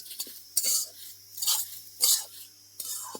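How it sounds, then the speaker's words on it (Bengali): Washed sesame seeds dry-roasting in a hot iron wok while a spatula stirs them gently, making four dry scraping, rustling sweeps a few beats apart, with a low steady hum underneath. "কড়াটা তেতে গেছে এর মধ্যে দিয়ে দিচ্ছি ধুয়ে রাখা তিল এটাকে আমি হালকা হাতে ভেজে নেব"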